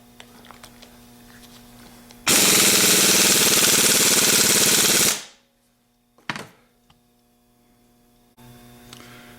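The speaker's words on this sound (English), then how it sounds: "using a 1/2 inch impact with a 15/16 socket" A 1/2 inch impact wrench with a 15/16 socket fastening an alternator pulley, one loud, continuous rattling burst of about three seconds at close range, then a short clunk and quiet shop hum.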